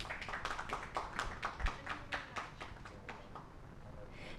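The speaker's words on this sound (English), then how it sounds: "Let's give a round of applause for her outstanding achievement" Applause from a seminar audience greets a speaker, a patter of hand claps with distinct individual claps, moderately close and fading slightly toward the end.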